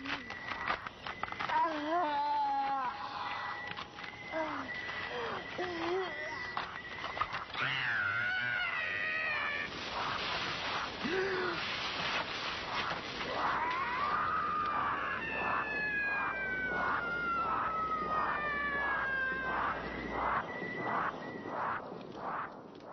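A manananggal creature from the 1984 horror film Shake Rattle and Roll III shrieks into the night, with rising and falling wailing cries rising loud over a dense, continuous film soundtrack.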